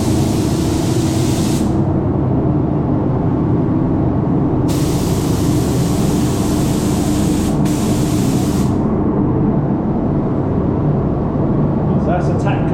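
Spray paint hisses onto an RC car body shell for a light tack coat, edges first, in two or three bursts: a short one, then a longer sustained spray with a brief break.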